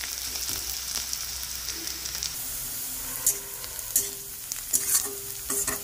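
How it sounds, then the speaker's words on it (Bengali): Onion and garlic frying in a pan, a steady crackling sizzle throughout with several sharper stirring scrapes and clatters toward the end, close and fairly loud with no voices. "পেঁয়াজ আর রসুনটাকে ভালো করে ভেজে নেব।"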